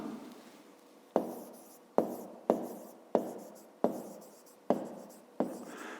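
Pen or chalk writing during a fifth-grade maths lesson, a series of about seven sharp strokes and taps at a brisk uneven rhythm, close and fairly quiet, with no talk over them.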